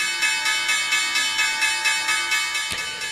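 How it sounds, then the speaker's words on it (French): Wall Street's opening bell on the stock exchange floor, a steady run of bright metallic rings repeating in quick, even pulses, loud and alone before cutting off abruptly near the end. "La cloche, c'est Wall Street qui ouvre à la hausse."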